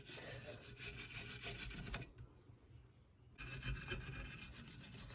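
A spark plug from a Toyota Yaris, Echo or Scion is scrubbed clean with quick rasping strokes, faint and close, with a short pause in the middle before the scrubbing resumes.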